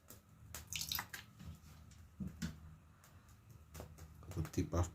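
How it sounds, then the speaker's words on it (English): A splash of vinegar poured into a pot of Jamaican cornmeal-fried chicken preparation, brief trickling and dripping liquid sounds, faint and close, amid kitchen noise. "Splash of vinegar, see, you can see."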